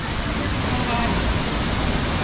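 Constant dense roar of a waterfall with people swimming in it, a broad unbroken wash of falling water that stays loud and even throughout, no distinct events standing out.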